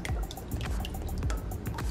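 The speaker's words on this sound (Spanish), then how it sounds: "Le voy a poner un chorrito de aceite." A splash of oil poured into a pot of water heating on a stove for pasta, heard as close liquid drips and splashing against a steady low background for about two seconds.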